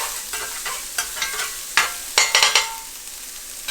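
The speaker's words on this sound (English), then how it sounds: "I got my green onions, my red onions. I got about a tablespoon of olive oil in there." Green and red onions fry in about a tablespoon of olive oil with garlic, a bright, steady sizzle close by, punctuated by several sharp spatula scrapes and taps toward the end, with no talking.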